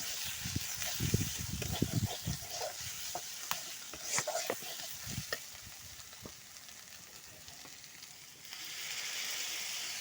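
Spices and a bay leaf fry in a pan for a fish head curry, giving a hissing sizzle broken by scraping stirs and clinks of a utensil. It is close and moderately loud, with no talk.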